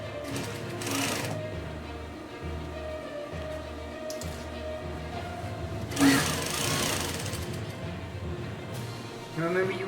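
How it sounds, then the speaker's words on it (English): A sewing machine stitches a pleated gun vault slipcover in a steady, close mechanical whir that keeps on for most of the stretch, with a brief pause and a small bump near the end. "So let me just stitch this one in."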